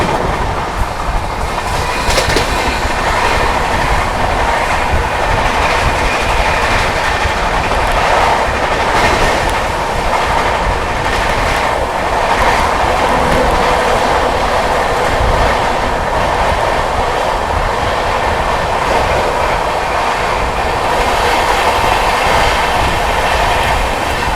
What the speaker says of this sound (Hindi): ट्रेन अपनी टूडला जंक्शन स्किप कर रही है